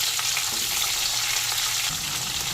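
Cut cauliflower and potato pieces fry in hot oil left over from frying fish, with a loud, dense crackling sizzle that runs steadily throughout, close by and with no talk.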